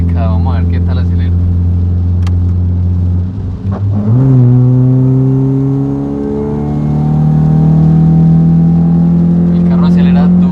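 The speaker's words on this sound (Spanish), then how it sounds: "El carro acelera duro" A modified 2008 Renault Clio accelerates hard, heard loud and close. The engine note holds steady, dips briefly at a gear change, then climbs in pitch as it pulls harder.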